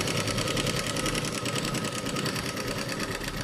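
Sewing machine stitching fabric during a tailoring class, a loud, continuous, rapid mechanical whir and clatter running the whole way without pause or talk.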